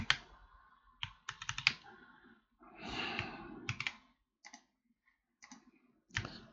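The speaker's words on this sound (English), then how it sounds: "Oh, it's my typing" Bursts of computer keyboard typing come in short irregular clusters of clicks and clacks, close and crisp, with pauses of near silence between them.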